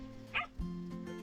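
A small dog gives a couple of quick, high yipping barks at close range, with a faint steady hum in the background.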